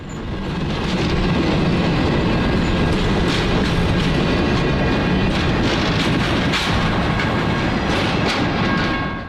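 Nickel Plate Road 765 steam locomotive rolls steadily past close by on a Norfolk Southern mainline, loud and continuous, with rhythmic clickety-clack of wheels over rail joints and a deep rumble throughout.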